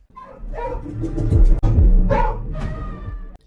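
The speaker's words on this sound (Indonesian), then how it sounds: "anjing pelacak itu melesat dan berhenti tepat di bawah pintu akses loteng sambil terus menggonggong di sana" A police tracking dog barks steadily beneath an attic access door, with a loud, continuous run of bark bursts filling the clip and no talk.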